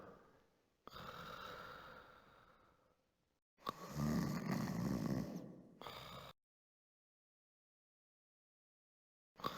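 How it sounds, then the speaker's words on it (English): Sleeping Pharaoh's guards snore in a 1992 CD-i children's Bible adventure game, two long rasping breaths separated by silence and then a short snort, fairly close and heard alone. "It sounds like someone snoring."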